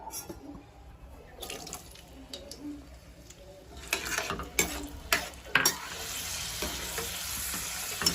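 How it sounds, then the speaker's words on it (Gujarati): Sweet potato pieces frying in hot oil in a wok for Kathiyawadi undhiyu: a steady sizzle that grows louder midway, with a few sharp scraping stirs and clatters close by. "સૌથી પહેલા આપણે શક્કરિયા તળી લઈશું"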